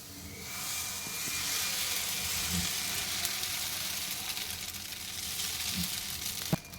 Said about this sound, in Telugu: ఇది దోశ ఇట్లా వేసుకోనండి